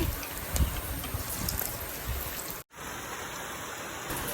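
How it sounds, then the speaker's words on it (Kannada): Heavy rain falling outside, a soft steady hiss of rainfall heard from indoors, continuous and fairly faint, with a brief dropout near the middle. "ಹೊರಗಡೆ ಜೋರು ಮಳೆ ಬರ್ತಾ ಇದೆ"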